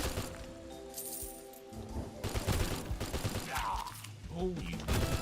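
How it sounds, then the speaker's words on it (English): Automatic weapon fire in a video game, bursts of shots mixed with clinking impacts and other game effects, moderately loud, with someone speaking over part of it. "The trouble with these automatic weapons is, unless you build them up, you run out of bullets quick."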